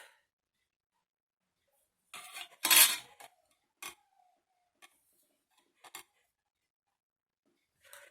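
A knife slices through two pieces at once on a cutting surface in a kitchen, with a few short, quiet cutting and tapping noises, one slightly longer scrape, spaced apart over otherwise near-silent air.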